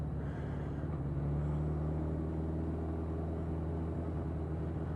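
Suzuki GS 1000 motorcycle on a test ride, a steady low engine drone mixed with road and wind rumble, continuous and fairly quiet, with no voices.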